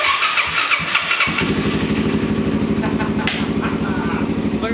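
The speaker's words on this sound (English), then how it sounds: "Literally first start, and she's fired right up." A Suzuki DRZ400SM motorcycle fitted with a Lectron carburetor cranks briefly, fires up about a second in and settles into a steady, close, loud single-cylinder idle that runs to the end.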